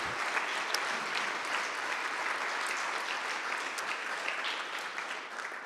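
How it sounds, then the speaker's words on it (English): Steady, dense applause from an audience at a community talk on Black wealth in Minnesota, even and unbroken from start to finish at a fairly quiet, distant level. "So please, a big round of applause for Tawanna Black as she comes on up"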